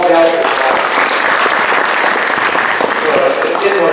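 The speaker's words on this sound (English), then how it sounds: "If it's possible, there's a full round of applause." Audience at a conference opening giving a full round of applause, loud dense clapping sustained throughout.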